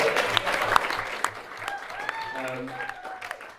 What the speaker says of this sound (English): Round of applause for Iris.